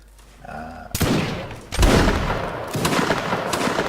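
Musket volley gunfire in the video game Mount and Blade Napoleonic Wars, a loud ragged fusillade of many shots followed by rolling booms and continued scattered firing.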